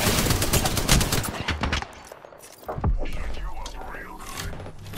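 Automatic weapon fire in an Apex Legends match rattles in loud rapid bursts, breaks off for a moment, then resumes; close and dominant, with a voice briefly heard.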